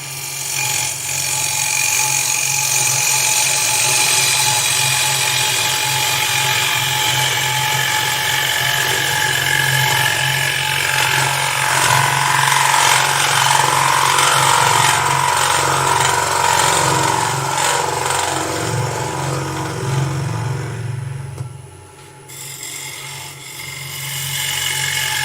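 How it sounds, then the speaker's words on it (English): Wood lathe turning with a hand woodturning tool, taking finishing cuts on the inside of a piece; a steady, loud scraping and rasping hum runs continuously, dipping briefly near the end before resuming. "And now I start taking slightly finer cuts on the inside so that I get a finishing cut on the inside."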